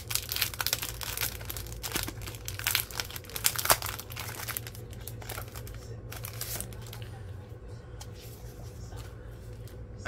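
Sheets of 6x6 vintage decoupage paper rustle and crinkle close by as a pack is handled and flipped through, the crisp paper noise strongest early then softening over a steady low hum.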